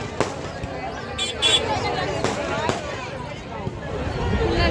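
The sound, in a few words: firecrackers going off at a village festival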